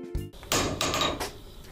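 A hammer striking a railway rail in a railway workers' museum: a sharp metallic hit followed by further quick rebounding strikes that ring and buzz brightly, close and loud, with no voices.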